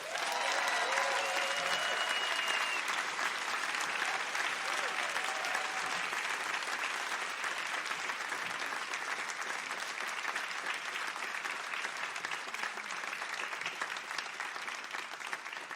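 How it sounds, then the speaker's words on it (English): A live audience gives a warm, sustained round of applause for two podcast hosts, with dense, even clapping that fills the room for about sixteen seconds and slowly eases off. "give a warm round of applause"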